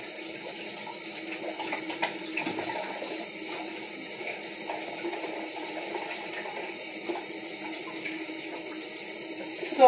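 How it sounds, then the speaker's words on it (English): Tap water runs steadily into a sink during handwashing, making a continuous close splashing rush with small spatters and no talk over it. "Wash my hands right quick."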